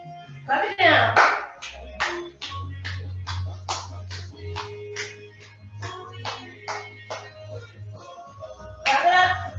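A steady run of sharp hand claps in even rhythm during a soca fitness workout, fairly close, over a low droning backdrop, with bursts of louder activity at the start and end.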